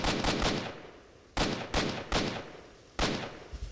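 AK rifle fire in the shooter game S.T.A.L.K.E.R.: Shadow of Chernobyl, loud rapid bursts of several shots each, three bursts in a row with brief pauses between.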